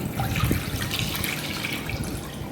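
A steady stream of tap water runs into a cooking pot, one liter measured out for boiling chicken in a kitchen, a continuous splashing rush throughout with no talk.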